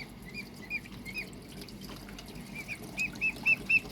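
Water poured into a dish for Muscovy ducks on a balcony, with faint trickling and splashing under soft, repeated chirping calls from the ducklings that grow louder toward the end.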